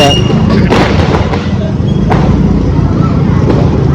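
A rapid string of loud Diwali firecracker bangs crackling continuously, close by and dense, with a few sharper pops standing out.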